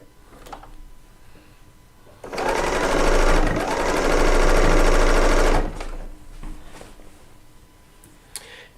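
A serger stitches pink quilt fabric strips for a Decoupage Trip quilt. It starts with a loud, fast, steady whirring run of about three seconds that settles into quieter handling noise and light clicks.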